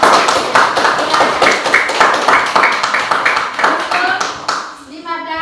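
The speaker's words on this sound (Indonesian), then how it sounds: "tepuk tangan buat Aris dulu" A classroom bursts into dense applause for a student called up to the front, a steady rapid patter of many hands lasting about five seconds before fading, with a voice faintly audible at the end.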